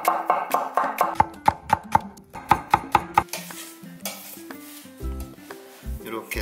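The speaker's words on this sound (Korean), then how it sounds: "이렇게 동글동글하게 이렇게 썰어주세요" A knife slices green onion into thin rounds on a cutting board in a quick, steady run of crisp taps, close and loud, while a voice talks alongside before the chopping gives way to softer kitchen clatter.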